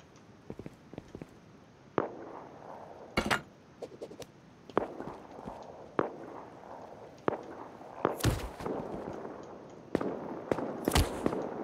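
Scattered gunshots from a group of players in the survival game Rust at night, sharp cracks at irregular intervals, some distant and some closer, with a few loud bursts standing out over a low ambient background.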